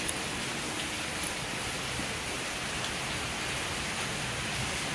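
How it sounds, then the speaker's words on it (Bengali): Rain falls steadily in an even, soft hiss, with no voices or other distinct sounds. "আর দেখো কেমন বৃষ্টি নেমে গেল।"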